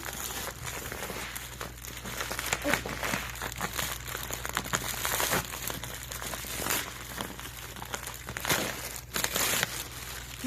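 Plastic packaging from an online rice order crinkles and crackles close up, with continuous rustling and sharper bursts as the bags are handled, and no voices.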